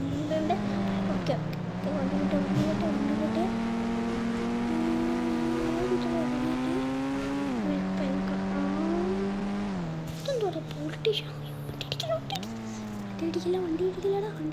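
Racing cars in a video game roar with engines rising and falling through gear shifts, loud and continuous, with sharp crash-like bursts near the end and a voice speaking over the action.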